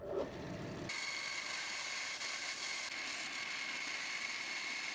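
A bandsaw cuts through a thick piece of wood meant for a sofa backrest, a steady, close, continuous whine and rasp that holds level throughout after a brief lower start.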